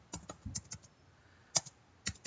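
Terminal command typed on a computer keyboard, a quiet, close run of irregular key clicks with short pauses and no talk.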